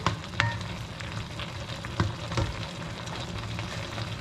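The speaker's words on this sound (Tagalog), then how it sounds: "Ginisang bunga ng malunggay na may talong" Moringa pods and eggplant sautéing in a pan, a steady close sizzle with a few sharper spatters and stirring knocks.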